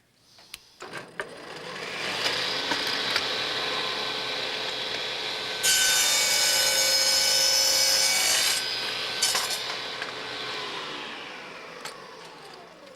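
A Shopsmith Mark V saw making a miter cut in wood held by a miter gauge: the motor spins up, the blade bites in with a louder, rasping cut lasting a few seconds, then the tone drops as the cut finishes, with no talking.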